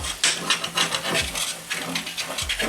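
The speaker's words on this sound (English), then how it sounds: "We scrape off all the spices and everything nicely." A utensil scrapes spices off a pan for oven-baked tandoori chicken wings, making rough, close, rhythmic rasping strokes with occasional light metallic knocks.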